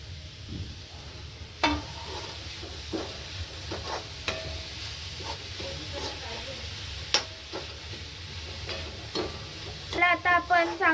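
Spring onion greens roast in a pan, a soft steady sizzle broken by sharp utensil clacks and scrapes against the metal, ending in a quick run of rattling knocks; no speech.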